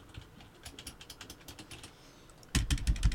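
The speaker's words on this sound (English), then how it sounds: "that's a mechanical keyboard" A mechanical computer keyboard is typed on with a quick run of light, crisp clicks, which then become a louder, heavier burst of keystrokes at the end.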